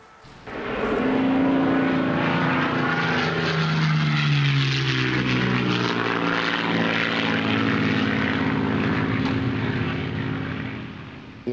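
A propeller bomber aircraft drones steadily in flight, a loud continuous engine roar with shifting pitch that swells in and holds for about ten seconds.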